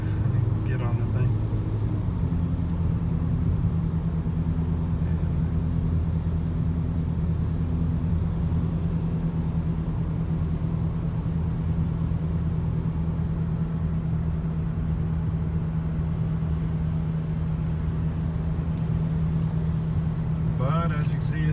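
Steady low engine drone and road rumble from a 2010 BMW 335i M Sport with the N54 engine under moderate throttle, smooth and not loud, continuous throughout with no voices.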